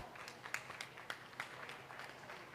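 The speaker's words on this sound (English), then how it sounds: "Give them a big round of applause." Faint, distant audience applause rises at a show, with scattered claps blending into a soft continuous patter from a crowd.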